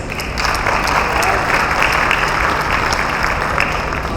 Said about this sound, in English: Please join me in giving a huge round of applause for our next speakers.